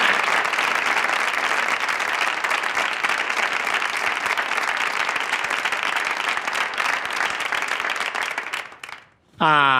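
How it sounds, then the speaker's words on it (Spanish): A crowd claps and applauds loudly and steadily for several seconds before the applause fades out. "pido un fuerte aplauso. Un fuerte aplauso."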